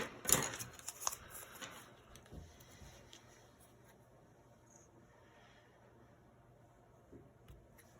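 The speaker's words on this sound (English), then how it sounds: "Okay, I'm going to cut this out." Scissors snip through folded paper to cut out a heart: a few crisp close cuts at the start, then faint quiet handling and occasional light rustles.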